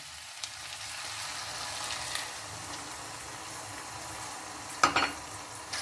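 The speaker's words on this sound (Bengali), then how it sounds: "পনিরটা দিয়ে আমি ভালো করে নেড়ে নিয়ে আমি 10 মিনিট জল দিয়ে ফুটিয়ে নেব" Paneer and mixed vegetables sizzling and frying steadily in a pan with water for a vegetable sabzi, a continuous crackling hiss with a brief louder clatter near the end, no talking.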